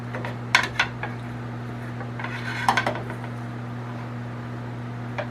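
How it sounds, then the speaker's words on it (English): A fork scrapes the flesh of a cooked spaghetti squash, giving a few short clustered scratching and clinking strokes against a steady low hum. "You basically just scrape it with the fork."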